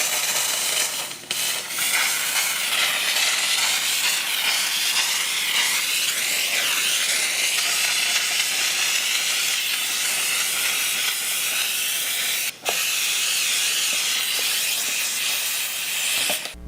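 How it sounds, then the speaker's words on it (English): ComfortDay handheld steam cleaner jetting steam into small crevices, a steady loud hiss running continuously for the whole stretch, with a couple of brief dips where the spray cuts off for a moment. "here's another place that might be good for a steamer like this, which is like little crevices and where it's hard to clean out"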